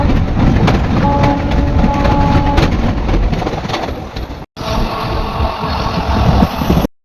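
Passenger train running at night, a steady, loud rumble of wheels and carriage with faint rhythmic clatter and a brief tonal hum, cut by a short break before the rolling noise resumes.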